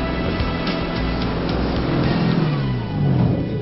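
A HovPod hovercraft engine runs steadily and close by, a continuous mid-pitched drone that swells slightly in pitch and strength near the end, with no voices.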